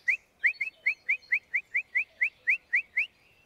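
A human voice whistles an imitation of a bulbul's alarm call: about a dozen short, rising chirps in a quick, fairly even series, close and clear against a quiet background, with no talk.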